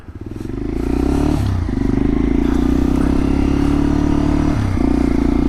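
An O'Neal Sierra v.23 helmet-mounted microphone captures a motorcycle riding: a loud, steady engine drone builds up, then dips briefly at two gear changes, with wind rush throughout.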